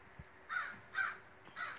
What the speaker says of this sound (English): Keep hearing a bird talking to me.